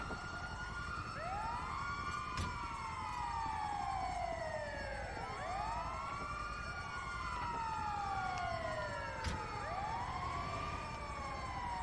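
An ambulance siren in GTA V wails continuously in repeated rising and falling sweeps, loud and steady over a low engine rumble, with no voices.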